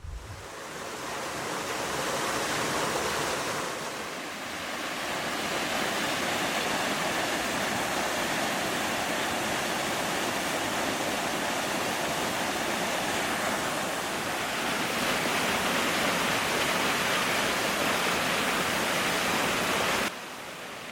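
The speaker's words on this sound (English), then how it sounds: "There's just something so comforting about waterfalls." A waterfall roars steadily at close range, a thick and unbroken rush of falling water that lasts about twenty seconds and cuts off abruptly at the end. No voices are heard.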